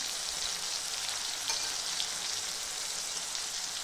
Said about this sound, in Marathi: टमाटर पण लगेच तेलामध्ये फ्राय होईल